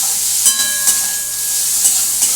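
Chopped paneer sizzles steadily in a hot pan for a vegetarian potol dorma, with a bright continuous frying hiss and a few soft stirring knocks, close and loud.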